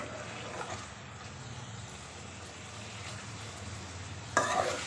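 Chicken for a chicken malai handi, cooked without turmeric or red chilli, fries in a pot with a steady low sizzle and stirring scrapes. A louder burst comes near the end.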